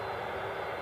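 UPS cargo airplane at Cleveland Hopkins airport, a steady broadband jet roar that fills the short moment evenly at moderate distance, no talk over it.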